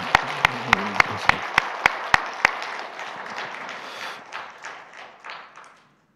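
A church congregation applauds at a Sunday worship service: a run of sharp, evenly spaced loud claps opens, then dense crowd clapping continues and fades out near the end.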